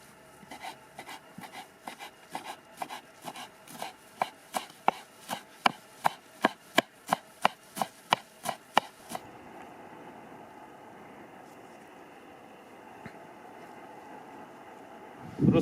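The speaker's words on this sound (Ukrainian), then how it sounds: "І дрібно нарізаю петрушку з укропом." A knife finely chops parsley and dill on a cutting board, a steady run of sharp, close taps that stops abruptly, leaving quiet room tone.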